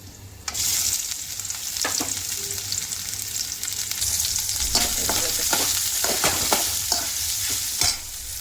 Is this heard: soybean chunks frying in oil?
yes